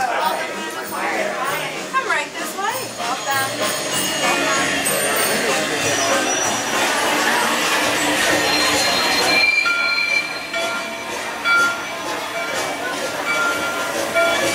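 A trackless dark-ride vehicle on Mickey and Minnie's Runaway Railway rumbles along loudly, wheels squealing and screeching, while people talk over the clatter.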